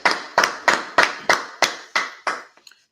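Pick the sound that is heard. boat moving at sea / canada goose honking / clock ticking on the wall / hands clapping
hands clapping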